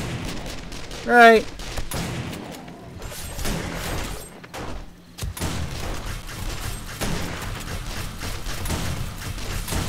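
Gunfire during a co-op horde night in 7 Days to Die Alpha 18, a steady clatter of shots and impacts under a busy mix with a brief voice and tonal chirp early on.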